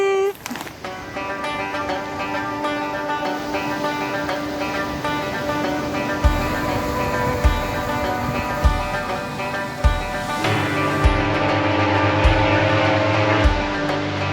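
A powerful lighthouse foghorn near a beach in Canada blares a loud, sustained, deep harmonic tone, joined partway by a second pitch, with dull rhythmic thuds underneath.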